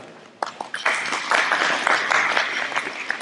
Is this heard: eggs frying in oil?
no